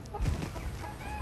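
A black-skinned chicken breed with a dark comb and wattles clucks on a farm in Tây Ninh, giving a few close, short clucks and squawks in quick succession.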